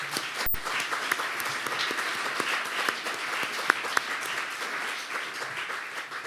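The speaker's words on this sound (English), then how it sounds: "I think you have deserved another round of applause for that." Applause from a conference audience for a cybersecurity panel on a Saturday morning, even, moderately loud clapping spread through the room, steady throughout with a few sharper individual claps.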